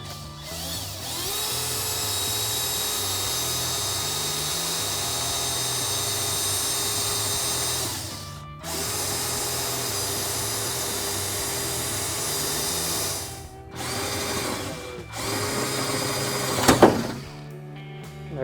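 A power drill bores a hole near the fender flare of a vehicle during a rear bumper install, whining steadily at close range in long runs broken by brief pauses and ending with a few sharper clanks.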